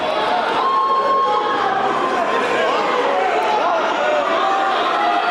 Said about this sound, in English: He hears the crowd